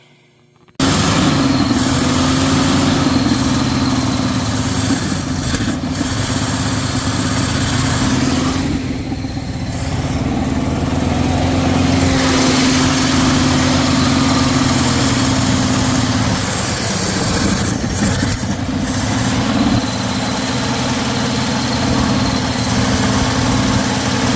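A 1979 Dodge engine idles steadily and close by for nearly the whole stretch after a brief quiet start, a continuous low rumble with slight shifts in pitch and no one talking.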